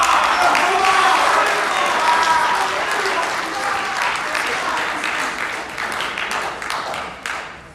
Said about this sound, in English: Another round of applause, ladies and gentlemen, for Mativa Fonua from Palmerston North Boys High School